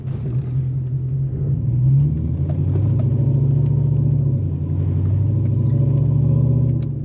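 Lowered 2011 Chevrolet Silverado truck with a choppy tune driving, a deep continuous engine rumble with an uneven loping throb, steady and loud throughout.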